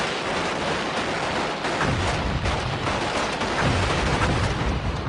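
Gunfire crackles through fighting in Fallujah, Iraq, a dense, steady wash of distant shots and bursts with no clear single reports, continuing without pause for the whole stretch and no voices over it.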